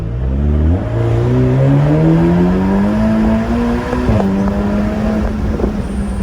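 A Ferrari Portofino engine pulling under load, loud and close, its pitch climbing steadily through the gears with a short break near the middle before building again, with no talking over it.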